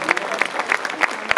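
An audience at an association lunch applauds steadily, with dense, sustained clapping from a crowd that fills the room and a few sharper claps standing out.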